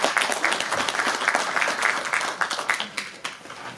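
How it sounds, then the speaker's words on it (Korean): An audience at a book concert applauds after a poetry recitation, a brief burst of lively crowd clapping that tapers into scattered claps. "좋은 낭송을 해주신 대표님께 다시 한번 큰 박수 보내주시기 바랍니다"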